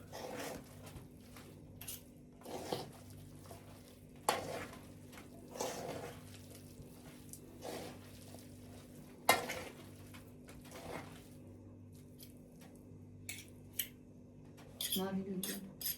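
Chicken salad being stirred in a bowl, with soft intermittent clinks and scrapes of a utensil against the dish, quiet and close, while people talk in the kitchen.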